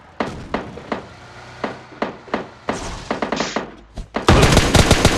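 Kar 98 gunfire in a shooter video game: sharp, separate shots ring out at irregular intervals, and a loud, dense burst of firing breaks out near the end.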